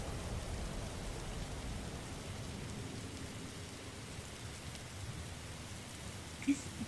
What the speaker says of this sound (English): I've never seen a blood rain ever before.